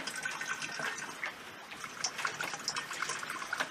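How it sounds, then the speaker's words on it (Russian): Apple pulp juice drains through a colander as the pulp is shifted around, giving a soft, steady trickle and patter of liquid with small splashes, close and fairly quiet, with no talking. "Сейчас я просто вот так фильтрую через дуршлаг"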